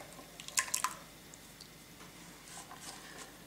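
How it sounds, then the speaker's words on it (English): Roughly chopped, peeled potato pieces drop into a soup pot, a quick cluster of wet plops and drips close by, followed by faint liquid ticks and soft shuffling. "I'm going to add in my just roughly chopped peeled potato"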